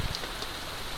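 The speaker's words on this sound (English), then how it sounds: "it's been raining every day" Rain falls outdoors in the Norwegian wilderness as a steady, dense hiss of drops on surfaces, close and continuous with no voices.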